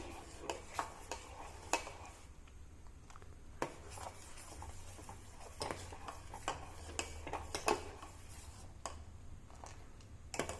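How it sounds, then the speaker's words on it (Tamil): A spoon stirs thickening urad dal porridge (ulundu kanji) in a pot, giving soft irregular scraping and light clinking taps, quiet and close, with no talking. "இப்போது இதை நல்லா கிளறி விடுங்க"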